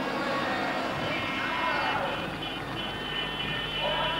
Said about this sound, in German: Ja, und der Hubschrauber, er kam noch ein letztes Mal reingeflogen.